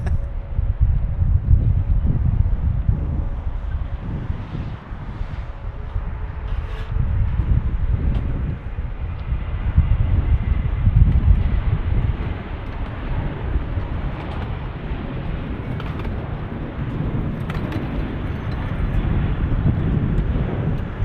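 A Legionnaire flight arriving from Pasco at Las Vegas in a 20-knot crosswind makes a sustained broad jet roar mixed with gusty wind noise on the microphone, with no one speaking.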